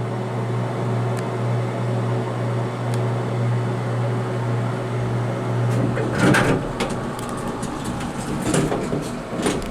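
Small Mowrey hydraulic elevator in a Key West hotel running, a steady low motor hum and drone throughout, with a few clicks and clunks of car or door hardware toward the end.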